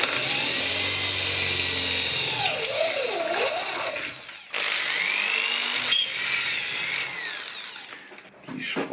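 A power drill bores angled holes through wood in a workshop, its steady whine running nearly continuously and loud with short pauses and pitch dips as the bit bites, close to the mic.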